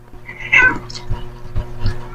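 A cat meows loudly nearby, with a drawn-out call followed by several shorter mews, while a person talks at an outdoor barbecue.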